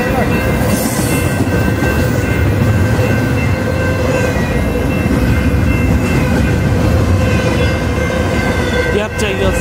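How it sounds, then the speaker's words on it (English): An Amtrak passenger train rushes past nearby with a loud, continuous roar and rhythmic wheel clatter that stays dense for the whole passage, ending with a brief sharp click. "Oh, the Amtrak! I catch it!"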